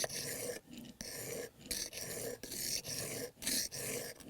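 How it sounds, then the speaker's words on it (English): A Stanley 9-1/4 block plane blade is rubbed back and forth on a sharpening stone, giving a rhythmic rasping scrape of about eight strokes with short gaps between them. "sharpening stone. It's going to go back forth."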